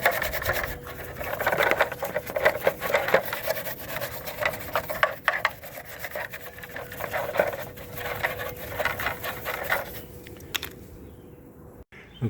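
Steady rubbing and rasping scrub on a dirty, oily, dusty RC toy car, close and continuous with irregular scraping strokes, fading to near silence at the very end.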